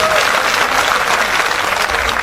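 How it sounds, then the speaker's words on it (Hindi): Audience at a Hindi comedy poetry event in Mandsaur clapping in a loud, dense burst of applause that holds steady throughout, heard close with no one speaking over it. "जोरदार तालियां बजा दीजिए"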